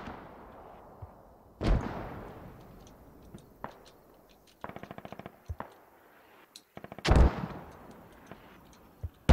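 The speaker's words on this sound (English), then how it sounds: "and then the mortars landing on top of them" In the video game Squad, mortar shells land and explode in heavy, booming impacts, a few loud blasts spaced across the stretch, with bursts of rapid rifle and machine-gun fire crackling in between.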